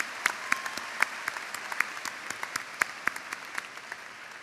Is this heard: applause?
yes